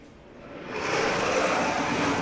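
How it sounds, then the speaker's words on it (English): A loud, steady broadband jet engine roar swells over the first second, then holds strong and continuous, like a jet passing close overhead at a military air show. "Gotta love that engine noise."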